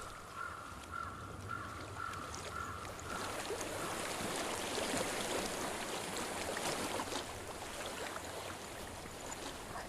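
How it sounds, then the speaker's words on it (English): Flowing water in the video game Hellblade: Senua's Sacrifice: a steady, moderately faint rushing stream that runs throughout, with a bird call early on and no speech. "I hear water."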